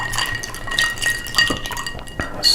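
A maraschino cherry is dropped into a glass holding a whiskey sour, giving a few light clinks and a small liquid plop, close and fairly quiet against a faint room background.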